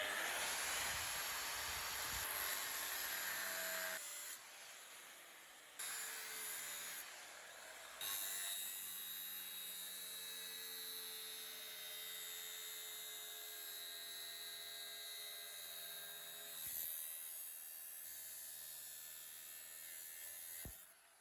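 A repaired Hikoki 9-inch angle grinder fitted with a new blade spins up outdoors, giving a steady high-pitched whine with hiss that holds for about twenty seconds, with brief dips where it slows.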